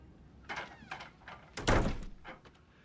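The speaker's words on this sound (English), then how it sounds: "close the door" A door being closed in an office, with several light clicks and shuffles leading to a solid thump as it shuts, followed by faint taps; close and moderately loud, no talking.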